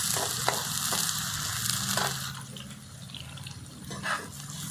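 Chopped onions frying in oil in a pan with dried red chilli, a steady close sizzle broken by occasional stirring scrapes, no one speaking.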